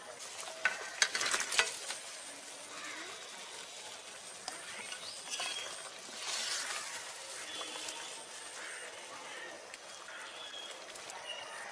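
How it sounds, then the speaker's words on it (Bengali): Boal fish curry bubbles in a pan as fried fish pieces go in. Close, steady sizzling and frying hiss runs throughout, with a few clinks and scrapes of a utensil against the pan near the start. "জল দেওয়ার পরে ফুটে উঠেছে এখন আমি ভেজে রাখা মাছগুলো দিয়ে দিচ্ছি"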